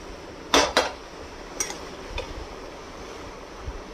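A spoon scrapes and clatters against a pot as chicken is stirred without oil, a few close metallic knocks early on followed by fainter scrapes over a steady low background hiss.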